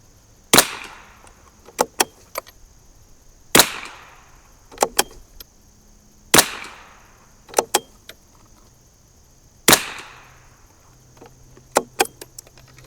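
A 1972 Anschutz Model 54 Match rifle fires four sharp, loud shots spaced a few seconds apart outdoors, with quieter clicks of the bolt being worked between them.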